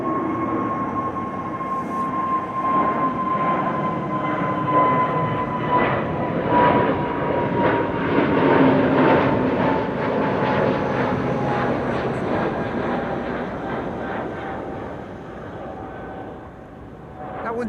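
A fixed-wing airliner departing Amsterdam Schiphol Airport, heard as a steady, broad jet roar that swells gently toward the middle and eases off, moderately distant, with no talking over it.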